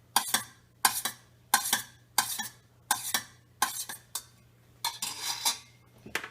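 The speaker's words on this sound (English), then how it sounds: "So you put that in with your applesauce. And then just stir that together." A spoon stirs thick waffle batter mixed with applesauce in a bowl, making regular scraping clinks roughly every second, close and crisp, with no talk.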